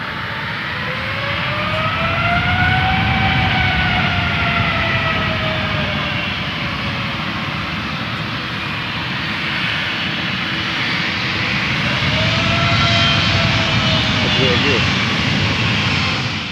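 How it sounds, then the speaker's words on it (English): A Boeing 777's jet engines roar loudly and continuously on the runway at Amsterdam during an aborted takeoff, with a sustained powerful rumble and rising and falling turbine whine heard from outside. "This Boeing 777 had to abort its takeoff from Amsterdam after a computer issue."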